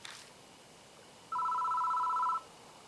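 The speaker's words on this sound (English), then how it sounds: "The phone's ringing." Phone ringing in the horror game Spirit Hunter: Death Mark, a single electronic ring tone lasting about a second, clear and steady over a quiet background.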